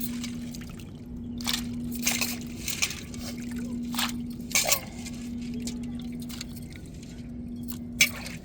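Crab pieces rinsed in water by hand, with sloshing, trickling and occasional splashes and clinks over a steady hum, no talking.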